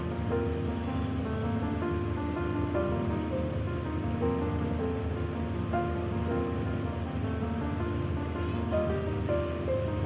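Crushed garlic and fenugreek seeds sizzle steadily in hot oil, a continuous dense crackle that stays close and even throughout, with no talking.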